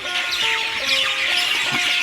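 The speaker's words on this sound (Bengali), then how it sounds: "বিভিন্ন রকমের পাখি আছে" Various wild birds, including kingfishers, herons, openbill storks and whistling ducks, call around a resort near Kolkata: a steady layered chorus of chirps, whistles and clucking notes heard close, with no voices.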